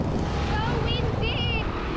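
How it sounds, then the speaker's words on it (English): Strong wind roars and buffets the microphone outdoors, a constant heavy rush with faint whistling tones on top. "So windy!"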